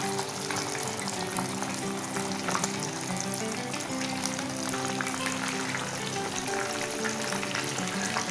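Rupchanda fish fried in hot oil in a non-stick pan, hotel style: a continuous, even sizzle and crackle of oil held at a steady moderate level throughout, with no talking.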